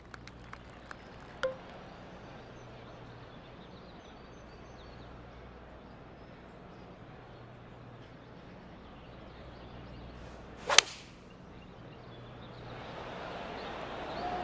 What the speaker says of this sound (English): Five iron on the way.